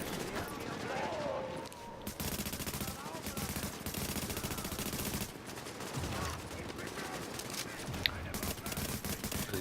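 Video-game gunfire in The Division sounds as dense, continuous bursts of automatic shots throughout. Someone talks over the shooting.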